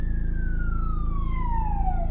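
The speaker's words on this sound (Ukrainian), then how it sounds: "чуємо, що десь позаду їде швидка, скоріш за все" An ambulance siren wails steadily behind, its tone sliding downward as it passes, over a constant low engine rumble from inside a moving car on a driving-test route in Ivano-Frankivsk.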